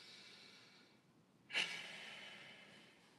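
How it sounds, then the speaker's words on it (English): A single slow deep breath drawn in then let out close to the microphone, soft and breathy in an otherwise quiet room. "take a deep breath with me"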